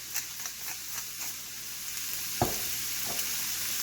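Ground beef and mushrooms sizzle steadily in a hot pan, a continuous close frying hiss with a few soft stirring scrapes and one sharper clank partway through.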